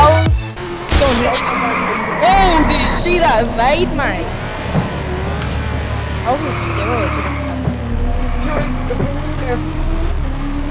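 Car engine from the video game Just Cause 2, running steadily and loudly throughout with rising and falling revs, while someone talks over it.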